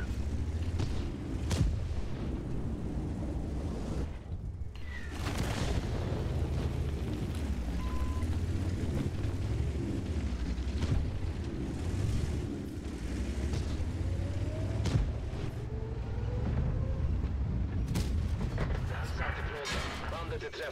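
Deep, booming tank cannon shots repeat over a constant low rumble of engines and battle noise in the video game World of Tanks.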